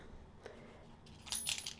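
Car keys drop into a Louis Vuitton Cluny BB bag, a brief metallic jingle near the end after a faint rustle, close and fairly quiet.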